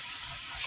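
Tap water running steadily into a sink to wash mangoes with room-temperature to slightly warm water, a continuous close hiss and splash with no talking.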